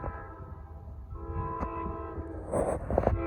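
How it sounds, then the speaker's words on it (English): A Norfolk Southern northbound freight train passes with a low engine rumble and a steady sustained horn chord, and the rumble builds toward the end with sharper rattles and squeals. "Northbound 154. First train for me."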